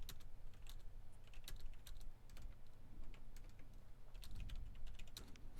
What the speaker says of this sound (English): I'm just furiously typing.